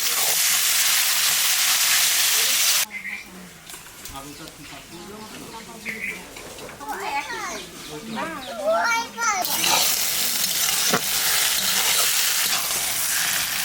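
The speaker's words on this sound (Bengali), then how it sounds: "দেখুন পেঁয়াজটা কত সুন্দর ভাজা হয়েছে" Onions frying in oil in a large pot for a mutton curry with bay leaf, cumin, dried chilli and garam masala, a steady sizzle that drops away while someone talks, then returns loud and continuous.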